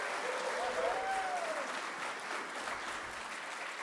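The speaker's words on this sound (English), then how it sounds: "please, another round of applause for Leah as our MC" Applause for the MC at a First Nations National Guardians Gathering: a large audience claps steadily, distant and soft, with a brief faint voice over the dense patter.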